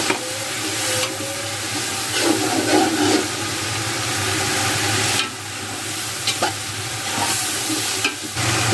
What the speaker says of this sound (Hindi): थोड़ा पानी डाल के मसाले के अच्छे से बुनाई करेंगे।